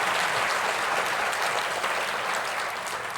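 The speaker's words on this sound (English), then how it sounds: "Let's give the band another round of applause." A graduation audience applauds a high school band, with dense, continuous clapping that holds steady throughout.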